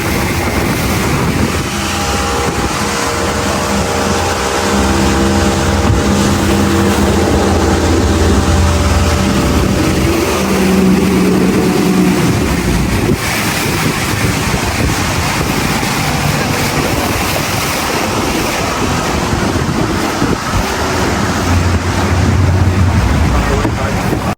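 A water taxi's engine drones steadily over the sea near Puerto Vallarta, Mexico, with water rushing past and wind buffeting the microphone throughout.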